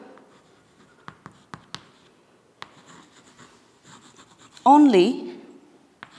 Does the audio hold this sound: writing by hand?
yes